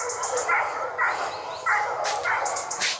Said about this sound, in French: Depuis plusieurs mois, il enregistre les aboiements.